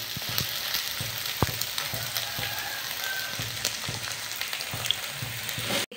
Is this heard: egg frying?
yes